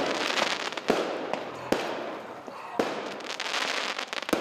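Fireworks go off at a funeral in Macul, Santiago, as a sharp crackle and hiss with several loud bangs, steady and fairly close throughout.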